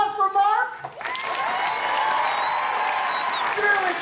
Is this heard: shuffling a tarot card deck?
no